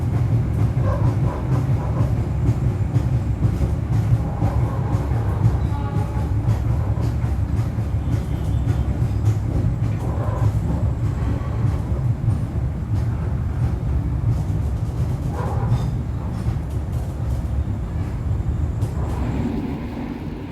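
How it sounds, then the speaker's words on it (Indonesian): Heard from aboard, the KA Gumarang passenger train pulls into track 3 at Bekasi station at night, giving a steady, loud low rumble of wheels on rail with faint clatter throughout. "Ini kita tiba di jalur 3 stasiun Bekasi."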